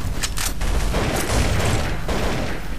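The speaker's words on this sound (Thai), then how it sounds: "โอ้โหมันระเบิดกลางอากาศ" A loud burst of explosive gunfire-like blasts from a grenade exploding in mid-air in Counter-Strike: Source on the Dust2 map, dense and continuous, with booming low rumble throughout.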